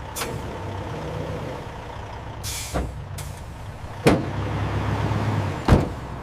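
A truck hauling a peach shipment pulls away from a processing plant, its engine rumbling low while several sharp air-brake hisses burst out at intervals.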